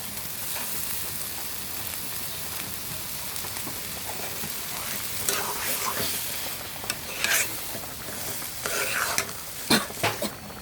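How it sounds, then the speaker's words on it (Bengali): Prawns and green chillies frying in oil for a prawn chorchori, a continuous rain-like sizzle under scraping stirs, with louder crackling bursts toward the end, close and alone. "মরিচগুলোর ভিতরে মরিচও ভাজি হবে, চিংড়ি মাছগুলোও ভাজি হবে, তেলের উপরে উল্টা হবে"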